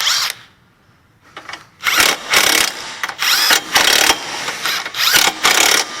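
An impact gun with a 17 mm socket tightens the nuts and bolts on a Toyota or Scion front CV axle, firing several loud rattling bursts of different lengths after a brief quiet start.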